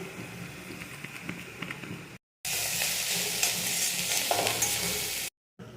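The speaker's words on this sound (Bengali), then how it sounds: "অল্প দিয়ে নাড়াচাড়া করছি, আবার অল্প দিয়ে নাড়াচাড়া করব" Chopped leafy greens fry in a pan with salt and turmeric powder, a steady close sizzle broken by scraping stirs, cut by two brief silent gaps and growing louder and hissier in the second half.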